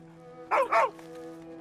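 A dog in Red Dead Redemption 2 gives two quick, close barks in a row over a steady background tone, then falls quiet.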